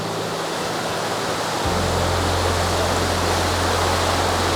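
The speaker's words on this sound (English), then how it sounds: "Look at this, the river in Lauterbrunnen." Fast-flowing river in Lauterbrunnen village, Switzerland, rushing with a steady, loud, broadband roar and continuous close water noise throughout, without voices.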